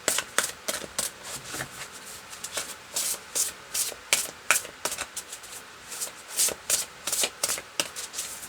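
Tarot cards shuffled by hand in a steady run of crisp riffling bursts and soft rubbing slides, close and fairly loud, with no voices.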